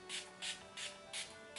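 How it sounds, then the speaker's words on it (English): Urban Decay Chill makeup setting spray is pumped five times in quick, even bursts, each a short airy hiss up close. "So I'm going to be using the Urban Decay Chill Makeup Setting Spray."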